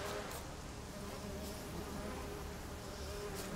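Bees buzz faintly and steadily in the video game The Witcher 3, a soft continuous drone with no speech.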